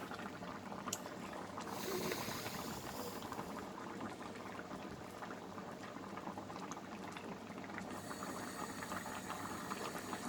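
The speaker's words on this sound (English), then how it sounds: "Let it boil away for about 5 minutes on a high heat." A covered pot of vegetables for a village-style Sylheti hutki shira boils hard on high heat, giving a steady, dense bubbling and hissing rumble that stays close and continuous throughout, with no talking.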